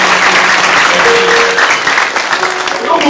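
Church congregation applauding during a French-language sermon, a loud, dense burst of clapping from many hands that stays steady for a few seconds, with a faint voice under it.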